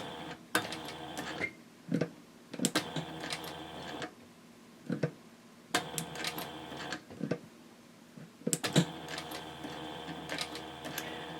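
A sewing machine stitching a handbag seam around a curve runs in short bursts of rapid mechanical whirring separated by brief pauses, close and clear.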